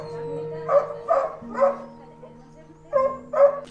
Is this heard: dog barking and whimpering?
yes